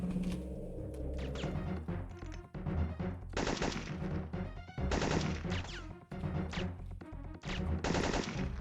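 Enemy gunfire in the Syphon Filter video game, with bursts of rapid machine-gun shots and single cracks in a bunker. Loud, close and sharp, it comes in several clustered volleys with short pauses.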